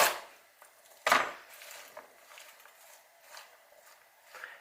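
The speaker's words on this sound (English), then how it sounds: "I'm just going to chop the stems into like 1 to 2 inch pieces like that" A knife chops Swiss chard stems on a board, with a few sharp, separate knocks, the loudest near the start, followed by lighter, irregular taps and short pauses between cuts.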